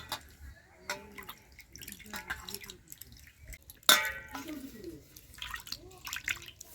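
Chicken being rinsed under running water in a home kitchen, with splashing and dripping throughout and a sharp clang near the middle, all under a person speaking.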